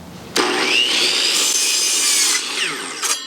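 A saw cuts 45-degree angles through wood boards for a chicken tractor base, one steady, loud continuous rasping cut lasting about two seconds, then a brief trailing burst as the blade finishes.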